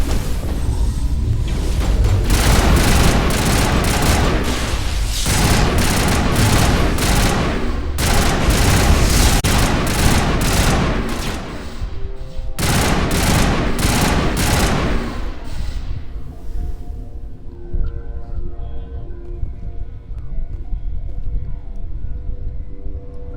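A video game shootout in Mass Effect, in a lab on Noveria, fills the scene with loud, rapid gunfire in long bursts broken by short pauses, fading after about fifteen seconds into quieter ambient tones.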